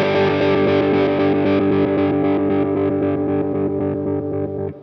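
Electric guitar through an Electro Harmonix Stereo Pulsar tremolo pedal, a sustained distorted chord pulsing rapidly in a steady choppy rhythm, loud and alone, slowly fading at the end.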